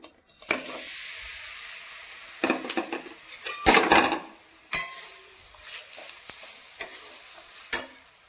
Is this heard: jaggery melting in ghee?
yes